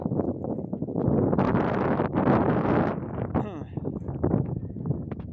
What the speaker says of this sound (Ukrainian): Зараз вітряно так